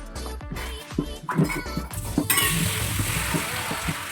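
Sliced onions stirred while they fry in a pan for an onion and garlic killi vadagam, a steady sizzle under repeated scraping and clinking of a utensil against the metal, close by and fairly loud.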